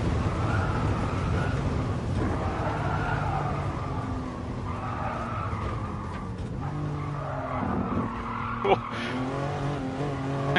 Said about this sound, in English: It was some crazy braking there.